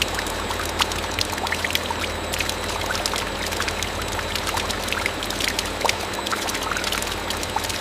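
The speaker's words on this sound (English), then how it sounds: "The volume of whey released is immense, filling the channel rapidly." Whey pours out of wide, reinforced outlet valves on a cheddar cheese vat into a channel, a steady heavy splashing stream with constant trickling, close and continuous.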